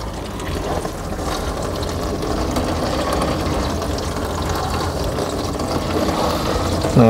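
Water hoses steadily over the rear of a Toyota Innova Reborn during a trunk leak test, a continuous close rushing spray with no break or voice across the whole stretch.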